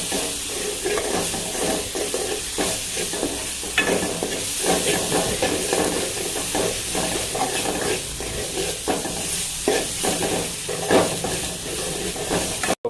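Ginger garlic paste frying in hot oil while it is stirred, a steady sizzle broken by repeated scraping strokes of the spoon in the pan, close and fairly loud.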